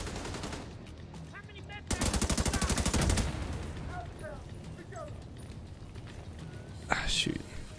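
Gunfire in the video game The Division 2: a rapid burst of automatic shots lasting over a second, followed by scattered game effects and a sharp later report, with people talking quietly over the action.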